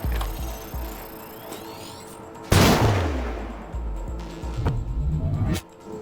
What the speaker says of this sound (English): Let's detonate his grenade and see what happens.